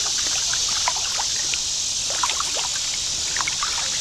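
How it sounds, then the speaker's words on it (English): Water trickles and splashes as a kayak is paddled upstream on a small creek, giving a steady close wash with irregular little drips and plunks and no talking. "But I can still paddle upstream, so I'm going to keep going a little bit."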